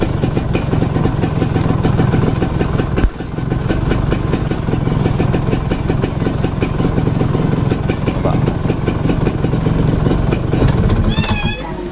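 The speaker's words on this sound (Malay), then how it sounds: "Okey, kejap kita tengok masa start enjin." A two-stroke motorcycle engine idles with a steady, buzzy pulsing drone and a brief break near the start. It runs close and loud throughout, with a voice speaking over it.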